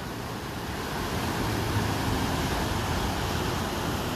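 Waves crashing steadily onto an eroding beach at Pantai Jilbab in Susoh, Aceh Barat Daya, Indonesia, a loud continuous roar of surf and wind that fills the whole stretch without pause.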